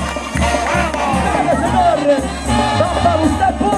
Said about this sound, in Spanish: El aplauso del jinete